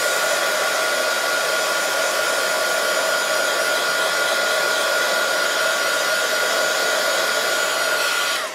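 Hair dryer blowing steadily on a handmade holiday card to dry ink, a continuous loud whooshing hum held for about eight seconds before it cuts off at the end.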